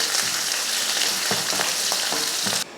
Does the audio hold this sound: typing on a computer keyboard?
no